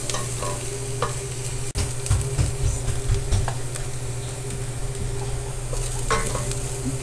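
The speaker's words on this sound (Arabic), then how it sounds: "هنزل بجزر مبشور عليها ونقلب كده مع البصل" Grated carrot and sautéed onions being stirred in a frying pan for a diet bean dish, with steady sizzling and repeated scraping stir strokes throughout, fairly close and loud, no talking.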